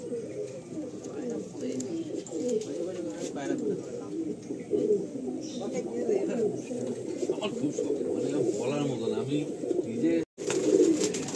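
Andhra and Madrasi pigeons coo continuously in a loft in Kolkata, a dense, close layer of overlapping low calls filling the whole stretch, with someone speaking over them.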